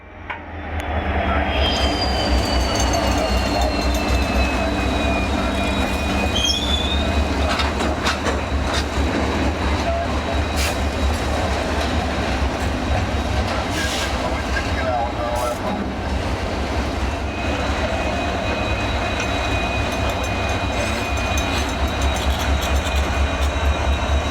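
A 3,800-horsepower diesel locomotive train rumbles past loudly and continuously in Jacksonville, steady mechanical roar with rhythmic wheel clatter and thin squealing tones from the rails.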